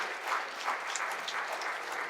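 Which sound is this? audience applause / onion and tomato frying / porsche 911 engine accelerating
audience applause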